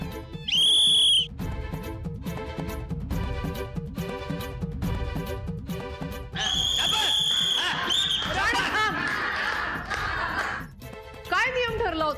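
A referee's whistle is blown during a game: one sharp, loud blast near the start, then a steady patter of thumps like a bouncing ball, and a second shrill whistle tone later, all mixed with people shouting.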